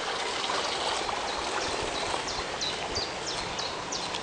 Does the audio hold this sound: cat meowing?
no